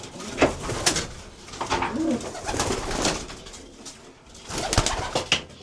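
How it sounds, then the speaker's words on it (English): Racing pigeons coo and murmur inside an aviary, several soft rolling calls overlapping at close range, with a few sharper bird sounds and no talking. "trying to scare the pigeons to go into the aviary"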